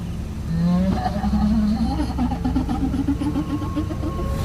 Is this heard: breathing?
no